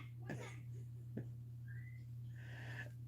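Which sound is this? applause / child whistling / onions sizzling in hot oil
child whistling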